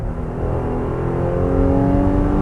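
A 2022 Nissan Pathfinder in sport mode accelerates hard with front-wheel drive. Its engine drone holds steady and strong, swelling slightly louder over a couple of seconds, with no voices.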